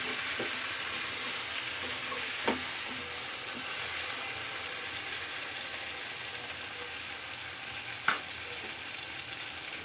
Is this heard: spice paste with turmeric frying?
yes